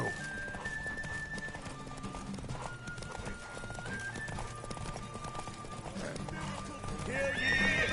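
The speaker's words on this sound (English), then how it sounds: "Run, Roach." A horse gallops with a steady clip-clop of hooves and neighs loudly in The Witcher 3 video game, while a voice urges it on and the hoofbeats swell toward the end.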